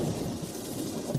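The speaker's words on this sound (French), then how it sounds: "La pluie est trop forte." Heavy rain pours with rumbling thunder mixed in, a dense steady roar that stays loud and continuous through the whole short moment, with no voices.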